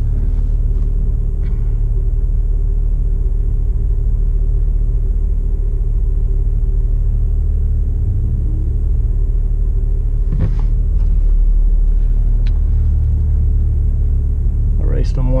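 A Tesla P90D and a Golf R Stage 3 APR line up for a drag race on a hot day. The pass is heard from inside a car as a loud, steady, low engine rumble with a few brief knocks over it.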